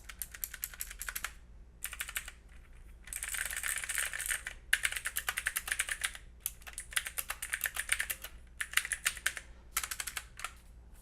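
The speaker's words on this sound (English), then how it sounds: "And this is the keyboard." Key presses on a Logitech G512 Carbon gaming keyboard: rapid bursts of close, crisp clicking keystrokes in fast runs separated by short pauses, with no talking.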